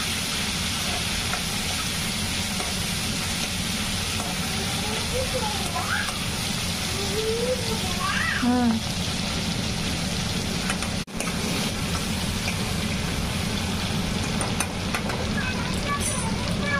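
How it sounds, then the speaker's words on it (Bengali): Prawns frying in oil in a wok, a steady dense sizzle running throughout at moderate level, with a voice talking over it. "চিংড়ি মাছটা হালকা হালকা ভাজা হয়ে গেছে।"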